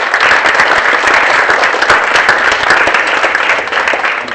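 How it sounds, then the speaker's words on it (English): An audience at a prize-giving ceremony for a low-tech innovation prize claps in loud, sustained applause filling the room, with no talking over it. "give yourselves a round of applause"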